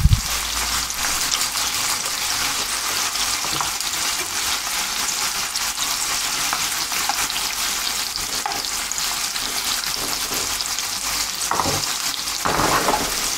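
Carrots frying in olive oil and butter in a pan, a loud, dense, continuous sizzle heard up close, with occasional stirring knocks near the end and no talking.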